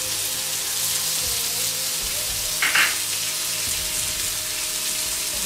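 Beef for Asian beef with broccoli fries in a pan, a steady, dense sizzle that holds evenly throughout, with one brief louder crackle midway, close up and with no talk.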